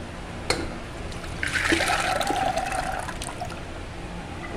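Water pours steadily into a metal pressure cooker for a few seconds after a sharp clink, a close, splashing rush that then settles.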